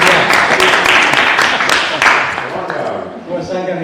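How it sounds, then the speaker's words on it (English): A round of applause at a committee meeting: a room of people clapping steadily for a few seconds before it thins out and fades, with voices mixed in. "Let's give Linda a round of applause."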